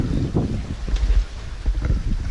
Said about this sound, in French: on navigue toujours, hein, ben, on fait de la voile